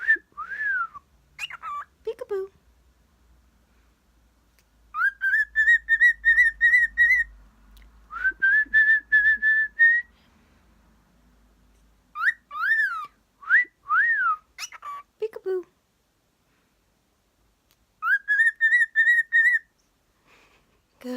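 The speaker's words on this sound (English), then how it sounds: "That was Dexter making a little peeping sound then." A small pet makes little peeping sounds: short bursts of high, whistle-like chirps repeated in clusters with quiet pauses between, close by in a calm room.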